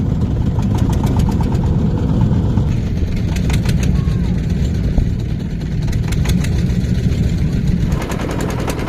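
A small river boat's engine runs steadily on floodwater, a loud, constant mid-pitched drone with a faint knocking pulse that continues throughout.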